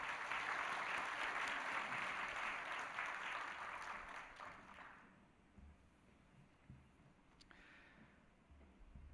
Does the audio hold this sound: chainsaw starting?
no